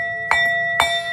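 Two bright strikes of a small bell, each ringing with a clear tone and a short shimmering decay, spaced about half a second apart, fairly close and alone with no talk.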